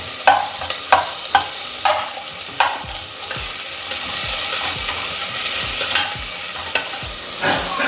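Roughly chopped onions sautéing in hot oil in a pan for a Sunday non-veg lunch, a steady close sizzle broken by repeated scraping stir strokes, no talk.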